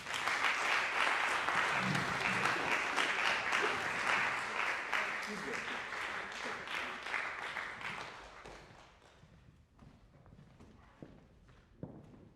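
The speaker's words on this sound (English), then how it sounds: "let's give them another round of applause." Audience applause fills a performance hall after a set of performances of open graphic notation pieces, loud and sustained for several seconds before thinning out into scattered claps.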